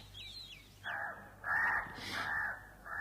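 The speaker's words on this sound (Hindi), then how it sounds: "पास के लंबे खजूर के पेड़ से उड़कर एक कौआ" A crow caws near a tall date palm, several harsh, rasping calls in a row, fairly close but quiet, with a faint chirp from another bird before them and no talk.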